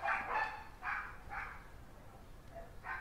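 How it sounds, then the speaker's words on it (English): Neighborhood dogs bark in a backyard outdoors, a handful of faint, distant barks spaced across a few seconds with no talking over them. "You guys can hear all the neighborhood dogs barking and braying in the backyard today."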